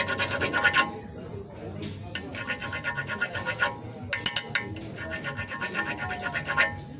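A Toyota Hilux axle hub has its threads cut at 1.5 pitch with a die, giving repeated close rasping, scraping strokes in short bursts with brief gaps between them.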